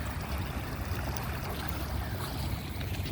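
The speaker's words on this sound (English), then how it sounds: "Oh, here's a wave coming." Ocean surf washes onto a San Diego beach, a continuous rushing wash of water, fairly faint and steady with no voices.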